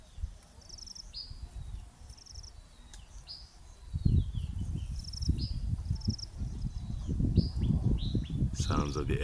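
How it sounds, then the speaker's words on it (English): A kingfisher calls among outdoor birdsong, with high chirps and tweets repeating over a steady insect drone, moderately near, and other birds and crickets layered underneath. "the kingfisher bird,"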